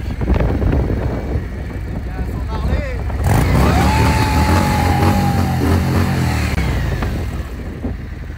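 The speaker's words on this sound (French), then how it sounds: "Ça fait 2 jours qu'il n'a pas conduit sa moto" Motorcycle engine rising and revving on a ride through a car park, buffeted by wind noise, with people talking over the engine throughout.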